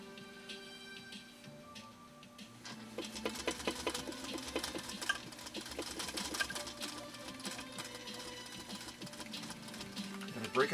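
A Singer sewing machine, either a 1949 Featherweight or a 1958 222K, stitches in a steady mechanical whir of fast ticks that speeds up and holds close and clear, with faint voices in the background.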